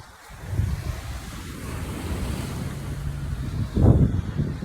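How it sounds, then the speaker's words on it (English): Ocean waves at a beach wash in as a continuous rushing roar mixed with wind buffeting the microphone, swelling into a stronger surge near the end. "Right now I'm by the beautiful ocean"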